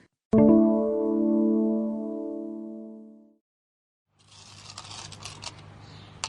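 A single bright metallic ring sustains and fades, then after a short silence come scattered small clinks and rattles of coins being shuffled.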